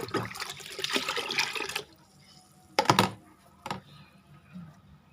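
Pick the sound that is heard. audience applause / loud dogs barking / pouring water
pouring water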